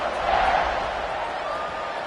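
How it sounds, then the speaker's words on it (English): Football stadium crowd at a college game buzzing after a score, a broad, steady roar of many voices filling the space, with a commentator talking over it. "this crowd is buzzing after that last score"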